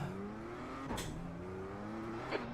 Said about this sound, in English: Car approaching, watch your mirrors.